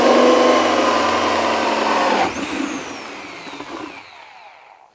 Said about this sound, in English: 3-inch hole saw, drill mode, can it do it?